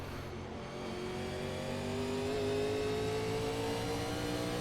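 In the iRacing sim, a NASCAR-style race car engine revs steadily upward, its tone climbing and growing louder as it builds toward an upshift, with no talk.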